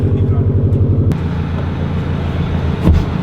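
A Subaru engine with a Tomei Expreme Ti titanium exhaust rumbles close by, giving a loud, deep, throbbing burble and a brief rev-like swell near the end.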